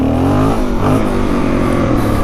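A Suzuki DRZ400 dirt bike revs hard on a snowy trail as its front wheel lifts off the ground. The engine note climbs loudly and close by in a short, rising burst.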